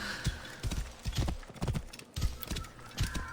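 Horse hooves clip-clop in a quick, uneven rhythm in Assassin's Creed Origins, loud and close, with a short neigh mixed among the steps.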